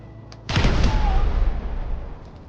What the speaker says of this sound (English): what happens if you throw a grenade instead of the ball?